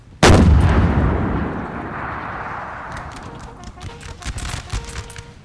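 A single loud cannon blast from an artillery piece in a Napoleon Total War battle, booming close with a long rumbling decay, followed by faint scattered musket pops in the distance.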